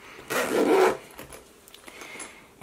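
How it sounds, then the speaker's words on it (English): A zipper on a mason bag is pulled closed in one quick rasping stroke, close and clear, followed by faint handling noises. "And then just zip up the zipper"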